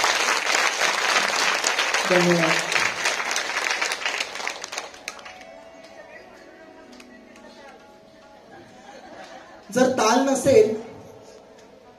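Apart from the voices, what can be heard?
audience applause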